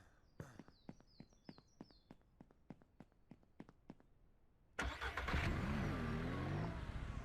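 A pickup-style vehicle in Ranch Simulator: a series of sharp clicks and footsteps, then the engine starts abruptly and runs loud and steady.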